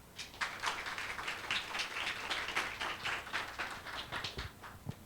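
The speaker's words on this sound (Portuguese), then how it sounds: "por favor, uma salva de palmas, pessoal" Audience applause for a presenter at a conference session, with dense, steady clapping from a crowd that carries across the whole stretch at moderate loudness.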